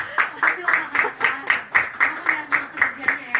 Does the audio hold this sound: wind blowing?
no